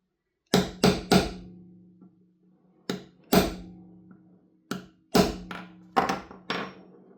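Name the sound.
tapping a pin into airsoft GBBR bolt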